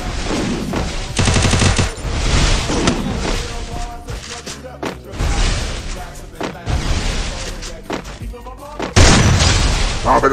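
Shotgun blasts and other gunfire from the battle-royale video game Free Fire come in sharp repeated bursts, loud and close, mixed with game effects while a player talks excitedly over them.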